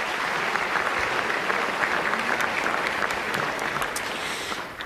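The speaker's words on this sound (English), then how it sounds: "so give yourselves a round of applause" An audience at the American Museum of Natural History claps steadily throughout, a dense, sustained wash of applause that tapers slightly at the end.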